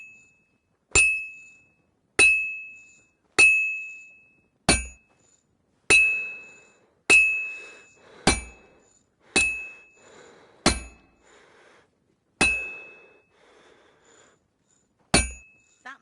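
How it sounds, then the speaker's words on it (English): Blacksmith's forge in Kingdom Come Deliverance 2: a hammer strikes metal about a dozen times at an uneven, deliberate pace, each blow a sharp ringing clang that decays into silence before the next. "I have to hammer it more evenly."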